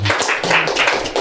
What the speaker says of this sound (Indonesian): berikan tepuk tangan dulu dong